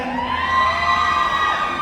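Loud, sustained screaming from a big crowd at a series launch press event, shrill voices blending into one steady roar that holds for the whole moment.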